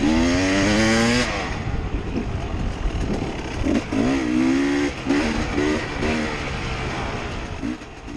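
A 300cc two-stroke Husqvarna enduro motorcycle rides free-flowing single track, its engine loud and close, rising and falling in pitch through repeated revs and throttle changes with no talk.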